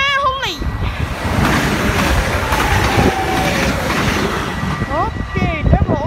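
A train rushes past at a station in Roermond with a loud, continuous roar of wheels and wind, close and steady for the whole stretch, while voices call out now and then over the noise.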